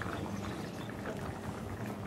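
Rice boiling in a pot of water on a home kitchen stove, a steady close bubbling and simmering that fills the short stretch with no talk.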